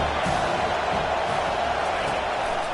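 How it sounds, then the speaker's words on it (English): Home crowd roaring at a football game, a broad, steady wash of cheering and shouting from a large stadium audience that holds at one loud level throughout. "how nice is it to have the home crowd going absolutely bananas?"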